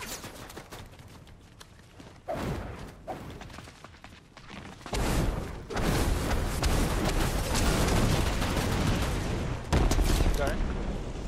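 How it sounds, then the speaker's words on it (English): Shotgun blasts and heavy gunfire in the Fortnite video game, starting quieter and swelling into a loud, sustained volley of shots and explosive bursts near the end, with voices talking over the action. "someone has a shotgun in the house"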